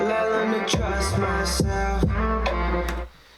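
An earlier take of a chopped lead vocal from a song's chorus, sitting over a full electronic mix with pulsing low end; the chops stutter in short rhythmic bursts for about three seconds before the track cuts away.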